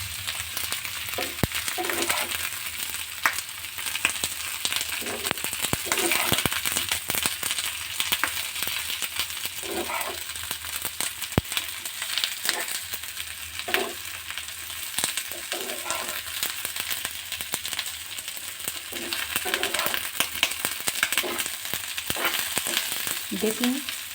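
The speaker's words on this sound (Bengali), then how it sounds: "আবার একটু খুন্তি দিয়ে নেড়ে নেব। সুন্দর করে পেঁয়াজের সাথে মাখিয়ে নেব।" Fried eggplant and onions stirred with a spatula in a hot pan for a spicy begun dish, a continuous sizzling hiss with repeated scraping strokes and occasional metallic clicks, close and steady.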